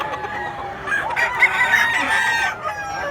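A rooster crows at a market in Mantalungon, Cebu: one drawn-out, fairly close cock-a-doodle-doo rising over a busy background of voices and farm noise.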